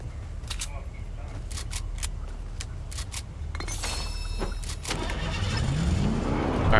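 A car engine starts and revs up in the video game Fortnite, rising steadily in pitch toward the end, under steady background game noise with voices talking.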